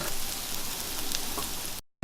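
Garlic frying in a pan gives a steady, close, hissing sizzle that continues for about two seconds and then cuts off abruptly.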